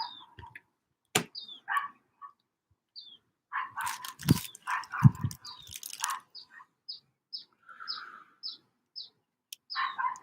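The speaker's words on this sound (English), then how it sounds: "The dog is trying to communicate something." A dog gives a few short, fairly faint barks in a brief cluster, set among frequent high bird chirps and tweets in a quiet outdoor setting.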